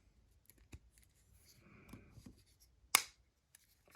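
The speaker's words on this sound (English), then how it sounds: "you just heard that magnet click pop sound attached." A magnet on a custom Marvel Legends action figure part snaps into place with a single sharp click-pop. Faint handling noises and soft taps come before it in a quiet room.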